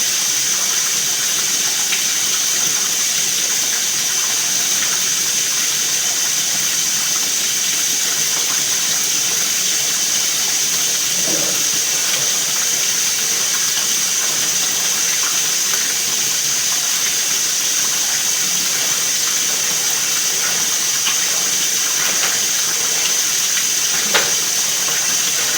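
Cold water runs from a tap in a steady, loud hiss that continues unbroken for the whole stretch.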